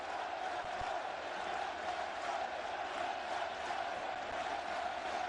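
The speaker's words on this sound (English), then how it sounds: "the crowd yelling, "Let them play."" A baseball crowd at the 2002 All-Star Game roars and chants continuously, a dense, steady wall of voices heard from a distance in a large stadium.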